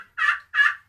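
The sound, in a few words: turkey call imitation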